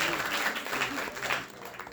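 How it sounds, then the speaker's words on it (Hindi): Applause from the audience at an Arya Samaj annual celebration in Noida welcoming an honoured guest, a steady wash of clapping at moderate level with some voices mixed in. "जोरदार तालियों से अपन का स्वागत करें"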